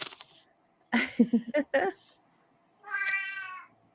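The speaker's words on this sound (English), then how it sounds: "Cue the cat. Was that your kitty?" A hungry house cat meows loudly several times in quick succession, then lets out one longer drawn-out meow after a short pause, close and clear with no talk over it.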